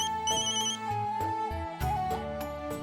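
A mobile phone plays a melodic ringtone for an incoming call from a sister, a bright repeating electronic tune, close and clear with no talk.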